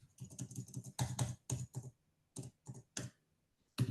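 Rapid, close keyboard typing during an online meeting, in uneven bursts of hard clicks, with short pauses between flurries and no voices.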